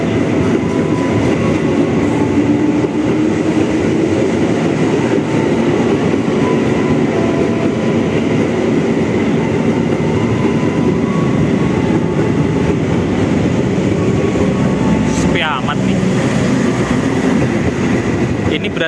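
The Argo Parahyangan train passing Tambun station, a loud, steady roar of wheels and rail cars rushing close by with clattering rhythm and a brief squeal near the end.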